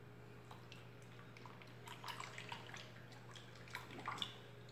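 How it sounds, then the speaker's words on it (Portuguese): A little water is poured into a container while mixing homemade baby fabric softener, giving faint, brief trickling splashes over a steady low hum. "Eu peguei um pouquinho de água e vamos aqui colocar."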